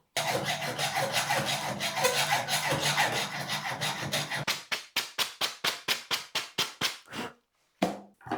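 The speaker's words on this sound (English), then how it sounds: "And we're cutting it with the good old hacksaw." A hacksaw cuts through a pipe for a DIY extendable patio table, first in fast continuous rasping strokes, then slowing into about a dozen distinct, evenly spaced back-and-forth strokes that end in a final short cut.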